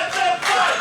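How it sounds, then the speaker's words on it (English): A wrestling crowd chants "let them fight", a dense roar of many voices in a large hall rising and falling in a short rhythmic burst. "The crowd chanting, let them fight"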